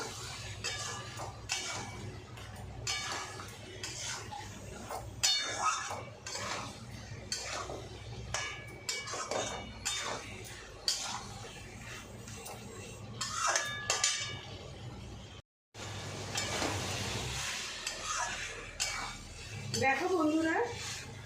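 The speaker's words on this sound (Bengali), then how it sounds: "এবার এটাকে খুব ভালো করে কষা করব" Faint scraping and clinking of a utensil stir-frying salt, turmeric and spices in a pan with a low sizzle, broken by a brief cut, fairly quiet throughout.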